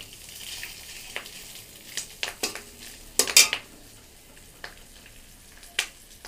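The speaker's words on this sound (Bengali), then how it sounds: "এদিকে মাছের ডিম ভাজছি" Fish roe frying in a pan at home, with a low steady sizzle under occasional scrapes and clinks of a spatula stirring against the metal pan.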